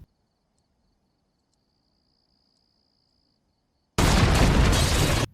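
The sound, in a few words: explosion at a farm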